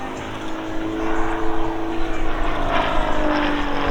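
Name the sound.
RAF Grob Tutor propeller aircraft flying aerobatics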